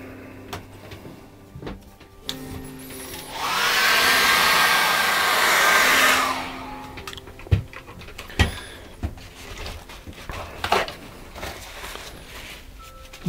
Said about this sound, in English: I'm going to dry that very quickly with a hairdryer.